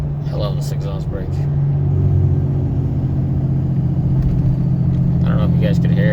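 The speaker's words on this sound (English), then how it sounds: "I love this exhaust brake." Ram 3500 pickup with a Cummins diesel towing a loaded gooseneck trailer of dry wood, exhaust brake engaged: a steady, deep droning rumble holds throughout, with someone talking over it.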